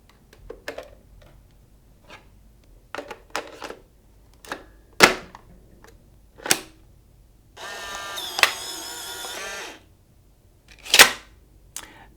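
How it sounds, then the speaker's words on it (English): Film being loaded into a Polaroid OneStep 2 camera, heard as a scattered series of sharp plastic clicks and snaps up close, with a whirring motor run of about two seconds partway through, then more clicks. "let's load the film."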